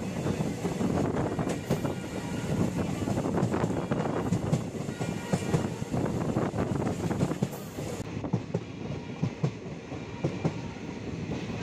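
Kanchan Kanya Express running through Sevoke station at the foot of the hills, a steady loud rumble with rhythmic wheel clatter and wind buffeting throughout, heard from on board.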